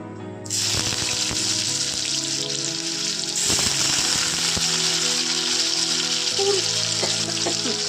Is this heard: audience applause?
no